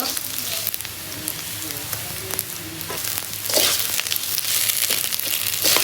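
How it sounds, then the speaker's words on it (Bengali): Rice with ginger garlic paste frying in a pan, a close, steady sizzle with scraping and stirring that grows louder and harsher partway through; no speech. "এই যে চাল ভাজা হয়ে গেছে আমি এখন আদা রসুন বাটা দিয়ে দেব"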